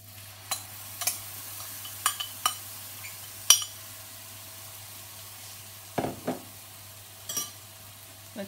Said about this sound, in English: So then the first step is to stir fry the curry paste.